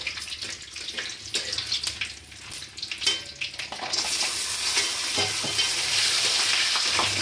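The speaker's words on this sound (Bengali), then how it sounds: "লাল লাল করে তেজপাতাকে ভেজে নিতে হবে যেরকম দেখতে পাচ্ছ" Bay leaves and whole spices fry in oil for vegetable fried rice, with a spoon clattering and stirring in the pan over a sizzle that then settles into a steady, even frying hiss.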